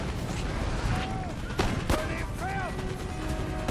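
Napoleonic artillery cannons fire in the strategy game Total War: Napoleon, two or three sharp booms cutting through a dense, constant battle din.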